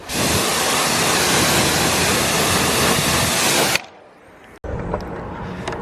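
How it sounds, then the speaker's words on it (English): A pressure washer or hose gives a car wheel a quick, loud, steady hiss of spraying water for several seconds before cutting off abruptly, followed by faint dripping and a second, softer rush of water. "I do a quick little blast of the wheel."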